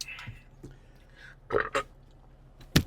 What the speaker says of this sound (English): Oh, no, there's still more burp in me.